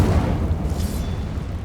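An Incendio fire spell in Hogwarts Legacy, a loud, deep rumbling blast that rolls on for the full length, no talk.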